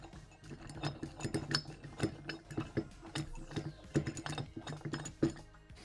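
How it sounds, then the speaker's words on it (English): Metal microphone rod screwed into a heavy base, a close run of quick irregular clicks and scraping thread turns. "So this rod here just screws into the base like this."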